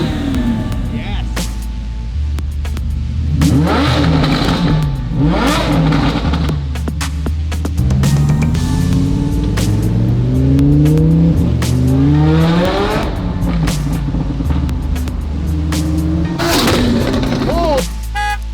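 Twin-turbo Lamborghini revving hard and flying past in repeated loud passes, engine pitch sweeping up and down with pops and bangs, people talking over it.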